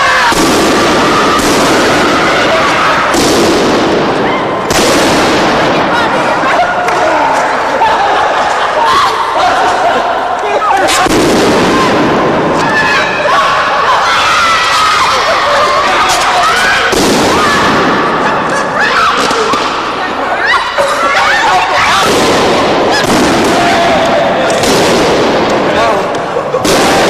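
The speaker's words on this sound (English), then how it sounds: "What did we get? 3 explosions?" Repeated loud bangs from explosive charges set off at an outdoor activity, sharp and close, in irregular bursts over continuous noise, with people talking throughout.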